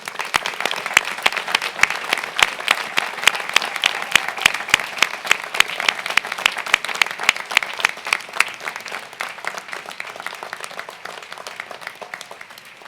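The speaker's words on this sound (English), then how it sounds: "join me in a round of applause to honor and thank your family and friends" Graduates at a law school commencement give their family and friends a long round of steady, dense applause that fades slightly near the end.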